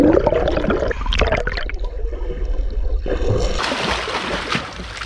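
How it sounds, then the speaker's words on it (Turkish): Steady rushing water from an ice-cold mountain river flows nearby in Germany, a broad continuous wash with gurgling, no voices. "Aşağıda da suyu buz gibi akan bir nehir var"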